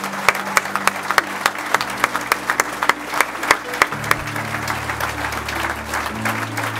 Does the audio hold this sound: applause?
yes